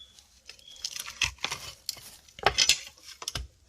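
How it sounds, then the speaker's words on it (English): Steak being flipped in a hot pan with metal tongs: a few sharp clanks and scrapes against the pan, with crackling bursts between them, all close and fairly quiet. "right now we're going to go ahead and turn the steak over. If I can get it with these tongs."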